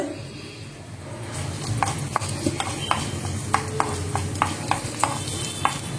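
Urad dal and dried red chillies sizzle in hot oil for a South Indian tempering, with a steady frying hiss and regular sharp taps of a spoon stirring against the pan.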